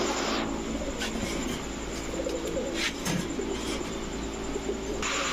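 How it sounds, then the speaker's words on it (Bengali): Large Golla pigeons coo softly in a loft. The low murmuring calls sit under a steady background hum, with a few sharp higher clicks and rustles. No one speaks. "বিগ সাইজের মুজওয়ালা গোল্লা কবুতর"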